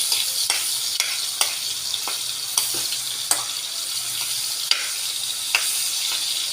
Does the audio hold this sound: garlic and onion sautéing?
yes